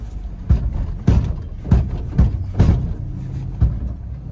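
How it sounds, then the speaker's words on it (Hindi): Repeated hollow knocks and clunks come from worn suspension underneath a car, roughly every half second, over a low rumbling drive. "बाकी कुड़ कुड़ नीचे आवाज आती है, देखो ये देखो नीचे गड़ गड़ की आवाज आ रही है"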